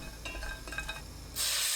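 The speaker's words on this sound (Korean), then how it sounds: "냄비에 손질한 국물용 멸치 15마리 넣고 센 불로 1분 볶습니다." Dried soup anchovies stir-fry in a pot over high heat, giving a steady close sizzle with light scraping and stirring, then a sudden louder hiss near the end.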